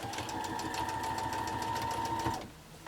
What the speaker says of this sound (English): We move it out of the way, and then we keep stitching.